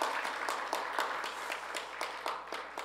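A church congregation claps for the Hosanna choir, with soft, fairly distant applause that pulses in a loose rhythm for about three seconds.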